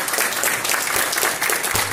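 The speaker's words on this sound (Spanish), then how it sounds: "Otro aplauso fuerte, por favor" Applause from an audience at a medical testimonial presentation in Peru: a dense, steady wash of many hands clapping at close range throughout, with no voices.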